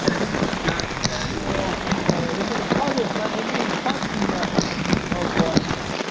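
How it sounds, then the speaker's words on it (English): Heavy rain pours onto a camping tarp during canoe camping in Algonquin Park, a dense, steady, close patter with occasional wind buffeting on the microphone. "Caught in a bit of a downpour here"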